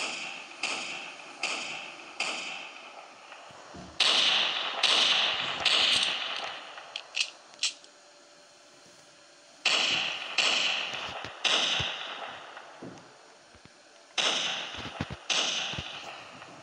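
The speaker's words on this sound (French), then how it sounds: "Vous allez entendre mes coups de feu." Gunfire in a Roblox Brookhaven roleplay game: several sharp, cracking shots in irregular bursts, some in quick pairs, with brief gaps of quiet between volleys, loud and close.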